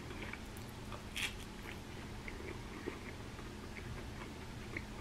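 Crunchy bite into a hot fried chicharron empanada, a sharp crisp crackle near the mic followed by faint chewing against a low background hum, with no talking.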